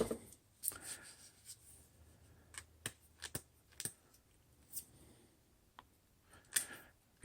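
Pen marking craft sticks, giving faint scratchy strokes and light taps close by, irregular and sparse, with no speech.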